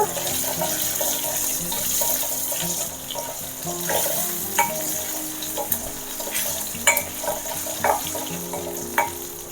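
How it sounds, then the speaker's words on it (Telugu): Chana dal frying in a pan while making brinjal chutney, a close bubbling sizzle with scattered crackles and stirring clicks, no voices. "శనగపప్పు వేగిపోయింది కదా"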